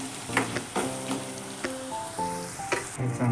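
Ground masala paste sautéed in oil for Goan oyster gravy crackles and sizzles, with intermittent clinks and scrapes from a spoon against the pan.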